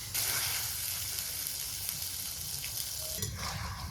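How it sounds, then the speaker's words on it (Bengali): Ground spice paste frying in oil for a spicy goat head curry with potatoes, a close, loud crackling sizzle with some stirring and a few sharper pops toward the end, no voices. "বাটা মশলাগুলো তেলের মধ্যে ভাজা ভাজা করে নিলাম"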